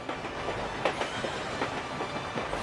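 A toy-sounding train rolls along the tracks in a children's Dumbo picture book, with rhythmic clickety-clack of wheels over rail joints, a steady rumbling beat with no voices.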